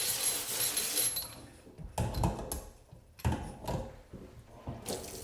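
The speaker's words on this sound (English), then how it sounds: "start filling the sink with ice cold water" Kitchen sink tap running and filling the basin with ice cold water, close splashing and rushing that swells and fades in uneven bursts, with faint clicking between, no talking.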